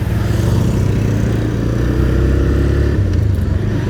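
A TVS Raider 125 motorcycle with a 125 cc engine idles and revs after starting, a steady low throbbing exhaust rumble with mechanical clatter, close and fairly loud, with no speech.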